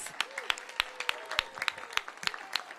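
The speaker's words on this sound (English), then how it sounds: "Give them a big round of applause." A crowd at a mayor's ribbon-cutting for a short-term family housing program applauds, with sharp, scattered, close claps over a thin background and a faint voice-like tone drifting underneath.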